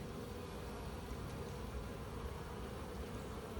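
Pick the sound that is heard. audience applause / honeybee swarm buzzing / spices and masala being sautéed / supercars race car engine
honeybee swarm buzzing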